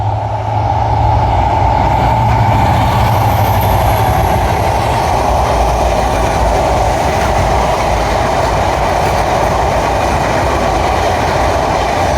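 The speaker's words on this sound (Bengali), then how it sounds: "পাথরবিহীন রেলপথে সুন্দরবন এক্সপ্রেস ট্রেনে ছুটে চলা" Sundarban Express passenger train bound for Khulna running on ballastless track near Keraniganj, a loud, steady rumble and roar of wheels and carriages continuing throughout without a break, with no voices.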